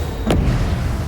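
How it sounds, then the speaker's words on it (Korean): A film explosion bursts in the sky, a single short blast with a quick rumbling boom that hangs over dense, loud background noise and then lingers as a low rumble. "하늘에서 엄청난 폭발음이 이들을 덮쳐왔죠"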